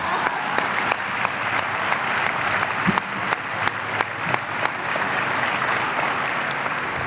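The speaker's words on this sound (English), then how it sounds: "So would you give her another round of applause?" An audience at an OCPS Stellar Awards event applauds steadily, a dense, even wash of many hands clapping that stays loud across the whole stretch with no voices.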